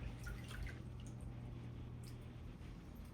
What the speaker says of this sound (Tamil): அம்மா செடி ஊத்துறாங்க.